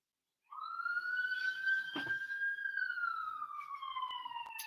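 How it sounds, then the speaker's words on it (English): A police siren wails steadily at a distance, its long sweeping tone gradually sliding lower over several seconds, heard alone against a quiet indoor background. "police are on their way. I don't know if you can hear the siren in the background."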